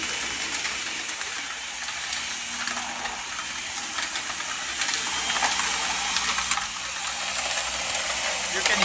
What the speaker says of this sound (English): You can hear it crunching, all of these delicious ingredients.